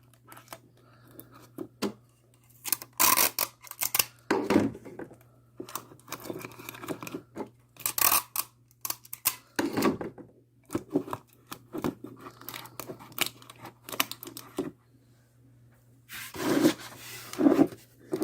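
Paper or plastic wrap crinkles and tears in bursts of rustling and tape pulls while being wrapped around a jar for a simple science experiment, close and intermittent, no talking.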